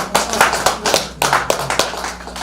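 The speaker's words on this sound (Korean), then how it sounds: "우리 회장님에게 박수 한번 부탁드리겠습니다" A small audience claps for the chairman after a lecture at a healing camp, with sharp, uneven claps from a modest group and a hollow room echo.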